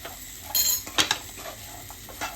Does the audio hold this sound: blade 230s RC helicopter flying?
no